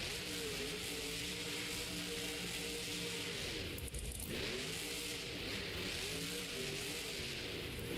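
Monster truck engine at a Monster Jam stadium show in Oakland, revving in a steady loud drone with shifting pitch throughout, mixed with broad crowd and arena noise and a brief dip midway.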